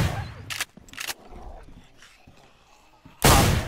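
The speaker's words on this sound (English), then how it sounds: "The dogs." Dogs bark in the DayZ video game: two short barks, then after a quieter stretch a louder, close burst at the end, with game noise between.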